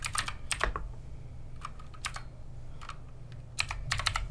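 Someone types an email address and password on a computer keyboard, producing bursts of quick, close key clicks separated by short pauses, with a faint steady hum underneath and no talking.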